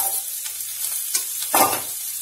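Potatoes tipped into onions frying in a pan, a steady close sizzle with a few stirring scrapes and a brief louder hiss as they land.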